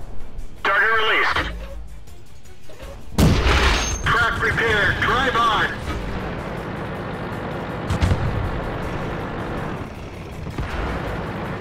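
An M3 Stuart light tank in World of Tanks fires its cannon in a few heavy booms spaced several seconds apart, over a rumbling engine drone, with synthetic crew voice callouts between the shots.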